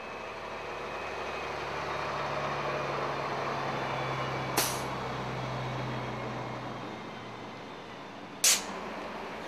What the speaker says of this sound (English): The Freightliner pulls into Capricorn Roadhouse to top up with fuel.